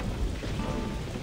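Heavy rain and a low rolling thunder rumble in the Saints Row video game, a dense steady wash of downpour with deep booming underneath, brief and continuous, no voices.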